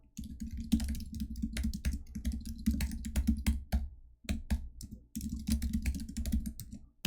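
Rapid computer keyboard typing during a timed coding contest, dense clicking keystrokes in fast bursts with two short pauses, close and steady, no talking.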